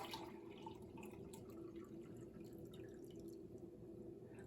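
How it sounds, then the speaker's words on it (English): Water poured from a quart container into a pint container over a sink, a steady continuous liquid trickle and splash running throughout at moderate, close range. "I'm gonna pour this quart into this pint and see how much I get."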